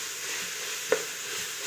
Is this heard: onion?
yes